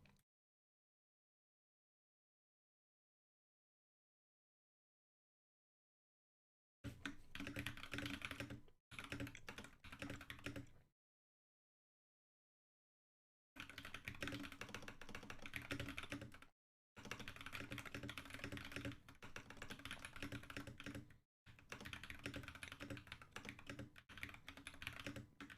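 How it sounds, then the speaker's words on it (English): Computer keyboard typing in several dense, rapid bursts separated by stretches of silence, close and clear, with no talking. "Can you hear the keyboard?"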